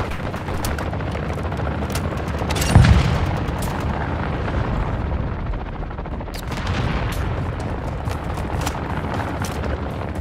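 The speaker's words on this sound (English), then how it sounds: "Our mortar strike is inbound." Mortar strike explosions in Call of Duty: Modern Warfare II rumble in a dense, steady barrage of booms and cracks, with one heavier close impact standing out early amid the continuous battle din.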